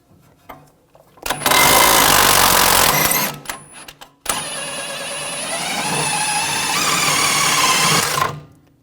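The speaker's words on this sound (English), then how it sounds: "Use a 21mm socket on the bolt, 21mm wrench on the nut." A power tool or impact wrench works on the lower strut bolt of a 2007-2013 BMW X5, with a loud close burst of whirring and rattling followed by a long, steady high-pitched whine.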